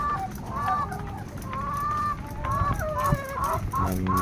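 Laying hens in an economical egg-layer coop cluck and call continuously, several birds overlapping at moderate distance in a steady, busy chorus with no talk.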